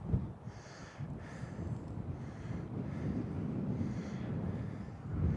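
Wind blowing across a park path on a cold, grey day, a steady low rumbling buffet with gusty swells, continuous and fairly quiet throughout.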